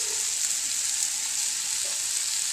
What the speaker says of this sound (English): now you saute just until your cabbage starts to wilt.